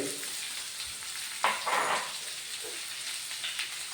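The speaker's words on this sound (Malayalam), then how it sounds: "അടുത്ത നമുക്ക് ചിക്കൻ ഇടാം കേട്ടോ." Chicken pieces frying in a pan for a stew, a constant hiss of sizzling oil with a brief burst of louder crackling and stirring in the middle.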